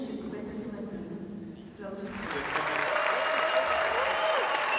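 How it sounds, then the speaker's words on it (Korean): At the Third Lausanne Congress in Cape Town, 2010, an audience breaks into sustained applause for two elderly gentlemen entering. A voice talks over a quieter hall before loud, dense clapping swells and continues. "사람들의 환호를 받으며 등장한 두 노신사."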